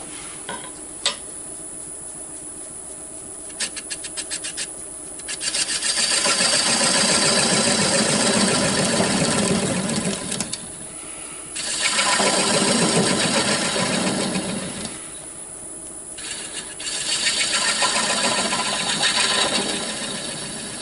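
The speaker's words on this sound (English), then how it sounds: "I'm going to go ahead and use the bowl gouge to make that little hollow" Bowl gouge hollowing a small recess in wood on a lathe, heard as several sustained scraping cuts of a few seconds each over the motor's steady hum, with pauses between passes.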